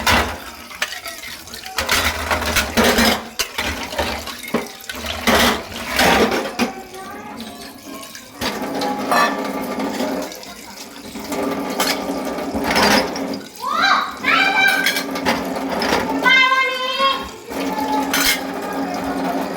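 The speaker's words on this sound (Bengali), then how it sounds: "এখন ধুয়ে নেবো, নতুন এনেছি তো একটু ধুয়ে নিতাম। আবার একটু করে এটা মাজবো।" New metal plates and pots are washed and scrubbed, giving close clattering, scraping and splashing bursts with short pauses between them.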